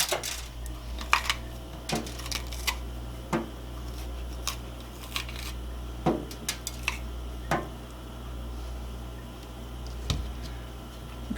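Kitchen knife working through a bell pepper on a cutting board: scattered sharp clicks and taps of the blade hitting the board, irregular and close, over a low steady hum.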